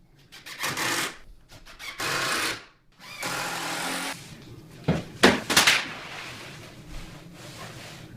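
A power drill drives washer-head screws through a hollow core door into a frame, with several bursts of whirring: short runs that rise and stop, then sharper, louder bursts near the end as the screws seat.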